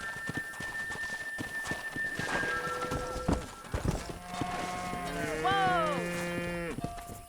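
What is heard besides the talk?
cattle herd mooing in video game Red Dead Redemption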